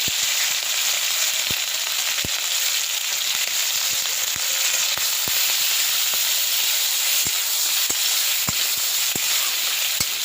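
Prawns fry in hot oil with black cumin seeds, producing a continuous bright hiss of sizzling broken by sharp, irregular pops and crackles.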